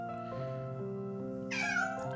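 A stray cat, apparently lost in Romania, lets out a single clear meow near the end, rising over a steady hum of background tones; no one talks.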